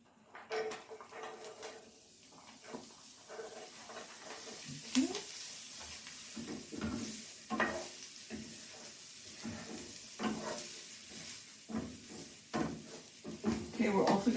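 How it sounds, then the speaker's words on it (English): Green peppers and onions sautéing in about two tablespoons of oil, giving a steady sizzle broken by repeated stirring scrapes and clinks against the pan. "we're going to saute some green peppers and onions"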